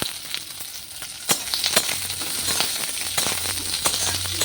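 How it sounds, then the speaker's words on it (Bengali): Puffed rice (muri) frying in hot oil over a low flame in a home kitchen, a steady close sizzle and crackle with sharp stirring scrapes and clinks, no talk. "এখন তার মধ্যে দিয়ে দেবো, এই দেখো স্পেশাল মুড়ি ভাজা।"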